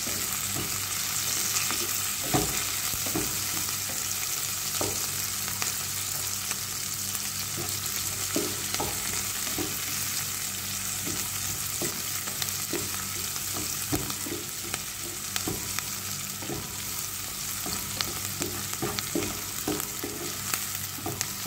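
Plenty of onions frying for adobo in a pan with Maggi cubes to follow, giving a steady loud sizzle with occasional stirring scrapes and clicks throughout.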